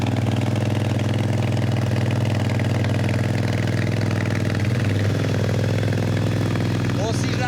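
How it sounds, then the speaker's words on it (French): A motorcycle engine idles nearby in Serbia with a loud, steady chugging rumble, running unchanged throughout. "il a une moto qui fait du bruit."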